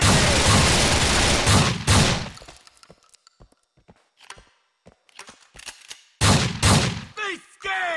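Gunfire in the video game Grand Theft Auto IV, loud bursts of rapid shots at the start and again near the end, with scattered single cracks and thuds in a quieter middle stretch.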